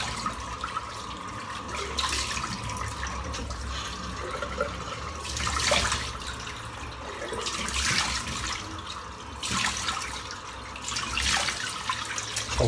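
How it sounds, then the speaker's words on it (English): Hot water splashed on the face after a wet shave, running and splashing at a sink over close, steady washing noise with repeated louder surges, no talking. "hot water splash."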